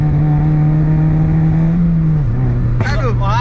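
A Honda Jazz GE8 engine holds a steady, loud idle hum that dips in pitch partway through, then a short revving burst near the end, with people talking over it.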